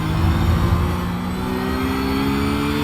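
Porsche GT3 race car in iRacing, its engine a steady, loud droning hum with rising harmonic whine held close throughout, no voices.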